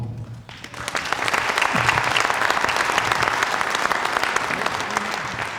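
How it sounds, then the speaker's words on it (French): A cabaret theatre audience breaks into applause after a brief quiet start, the clapping swelling quickly into a dense, sustained ovation that holds steady and then eases slightly at the end. "Sous vos applaudissements,"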